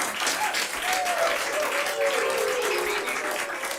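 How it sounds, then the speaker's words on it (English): Steady crowd cheering and applause hold throughout, loud and continuous with a faint tonal whistle-like line riding over the roar. "It's because of all the cheering going on"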